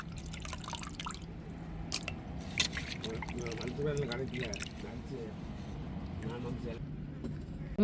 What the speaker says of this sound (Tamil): இப்போ நல்லா அலசி எடுத்துக்கிடுவோம்